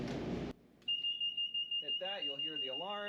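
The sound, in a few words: ignition alarm on a 64-foot Hatteras motor yacht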